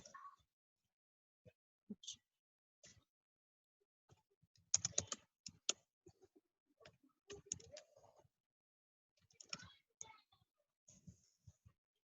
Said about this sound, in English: Dude, I really can't type today.